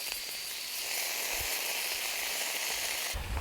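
Sausages sizzle on a grill over a campfire outdoors, a steady, close, even hiss of frying fat that runs unbroken throughout with a few soft low bumps and no talk.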